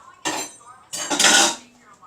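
A plastic slime container set down in a kitchen sink, giving two hard clattering knocks against the basin, the second longer and rattling, close and fairly loud.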